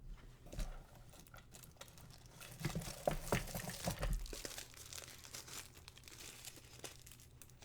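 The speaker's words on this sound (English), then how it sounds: "I hate it when we have to flip the page." Paper page being flipped during a math lesson on encoding matrices, with a few close crinkling rustles clustered in the middle and softer handling noise around them, no talking.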